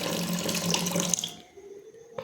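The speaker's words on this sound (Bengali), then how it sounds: "এটাকে এবার মাছ ধুচ্ছে মাছ ধুয়ে নিচ্ছি" Tap water pours steadily into a kitchen sink while fish is washed, then cuts off, leaving a faint trickle and a single knock.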